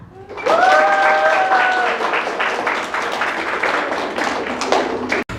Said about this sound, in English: Great answer, and let's give a round of applause for Kasva.